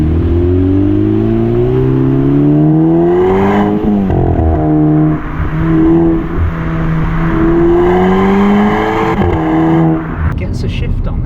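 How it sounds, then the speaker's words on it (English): Turbocharged Seat Ibiza with DSG gearbox accelerating hard on a track, engine pitch rising through gears with shift dips, loud in-cabin drone that continues throughout. "You can hear that turbo."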